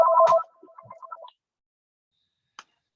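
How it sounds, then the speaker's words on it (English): A mobile phone plays a short melodic ringtone, a quick run of bright tones that stops abruptly, followed by a single faint beep, heard alone in an otherwise quiet room. "my phone is ringing"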